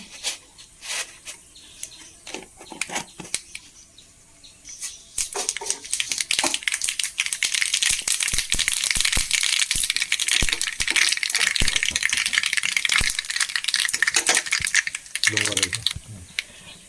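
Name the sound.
mustard seeds spluttering in hot oil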